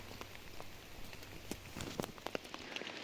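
Steady rain hisses outdoors, with scattered sharper drops pattering on a nearby surface across the short stretch. It is fairly quiet, and no one speaks.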